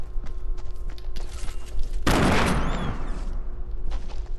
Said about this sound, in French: Ah, on me tire dessus.